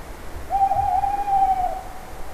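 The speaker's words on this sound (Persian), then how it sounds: "اینم که صدای جغد داناست" A single drawn-out owl hoot, clear and fairly close, holding one steady tone for about a second over a quiet, rumbling background.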